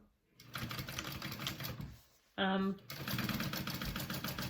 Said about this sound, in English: It gives it just an extra row of stitching.